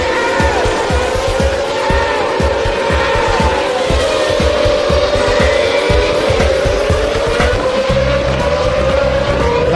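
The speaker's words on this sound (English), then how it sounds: "That's the sound of the first corner at Spa." GP2 race cars scream through the first corner at Spa during the 2012 Belgian Grand Prix weekend, a loud continuous engine howl that climbs in pitch, mixed with tyre squeal and skidding, close and dense.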